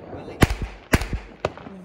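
Diwali firecrackers pop in three quick sharp bursts, each followed by a smaller crackle, close by over a low background murmur of voices.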